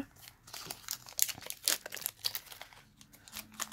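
A Pokémon card pack wrapper is cut and pulled open, giving a run of close, crinkly plastic rustles and short tearing bursts at moderate volume, with no talking.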